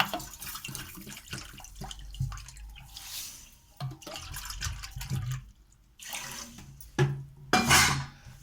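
Water is poured from a measuring bowl into a pan of sugar for malpua syrup, splashing and trickling in short, close bursts separated by brief pauses.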